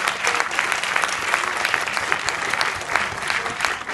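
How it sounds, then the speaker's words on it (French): An audience applauds volunteers at a tenth-anniversary event, with dense, steady clapping from many hands filling the room for the whole stretch, loud and close, with no speech over it. "Merci aux bénévoles. Ils sont un peu de partout, mais on peut les applaudir aussi."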